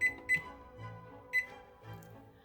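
A kitchen timer for baking banana bread beeps and clicks as it is set, with short sharp electronic beeps at irregular intervals and soft handling noises between them, fairly quiet.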